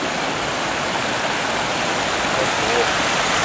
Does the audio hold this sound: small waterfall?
yes